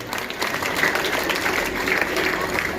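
A school convocation crowd in Samastipur breaks into sustained applause, a thick, even roar of many hands clapping at once, loud and close with no pause.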